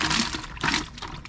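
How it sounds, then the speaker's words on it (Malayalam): Water pouring and splashing as a fish tank is filled, in uneven gushing bursts close by with a rushing, bubbling texture and no voices. "വെള്ളം നിറയ്ക്കാം"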